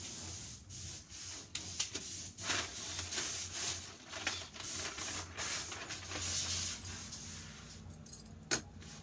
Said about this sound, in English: So now I'm going to cut the back of the dress.